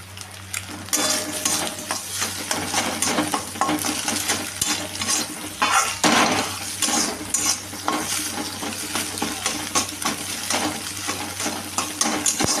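An egg sizzles steadily in a hot pan for egg chow mein while a utensil stirs and scrapes it, with frequent metallic clinks against the pan over a constant low hum.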